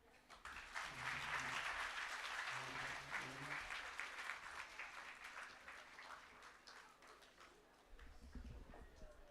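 A large audience at a provincial smart-province launch applauds the Premier of KwaZulu-Natal, dense sustained clapping swelling early then gradually thinning, with a brief renewed burst near the end.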